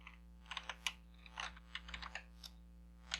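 Typing a camera name on a computer keyboard: a quick, irregular run of light, close key clicks over a low steady hum, with no talk.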